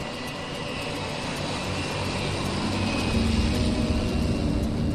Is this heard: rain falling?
no